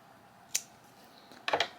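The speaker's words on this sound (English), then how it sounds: "pull my yarn up, cut it" Scissors snip through crochet yarn: a single sharp cut, a short pause, then a quick double snip, close and fairly quiet.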